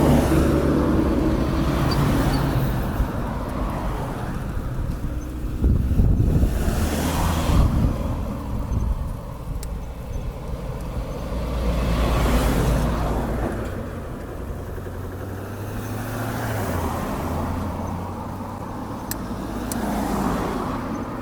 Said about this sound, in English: A few cars passing now. On the other side.